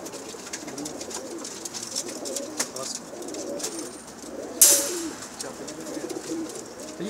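Several pigeons coo in soft, overlapping low calls close by, broken by a sharp bright chirp and light rustling partway through.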